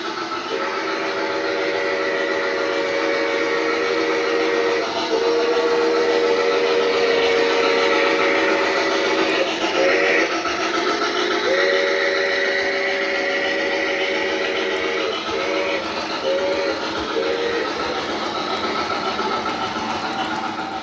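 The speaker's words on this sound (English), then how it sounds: "Just listen to this engine roaring down the track." A model steam locomotive of the Cincinnatian, fitted with a PS3 sound system, rumbles steadily along the track with a continuous mechanical chugging, punctuated by several long and short whistle blasts.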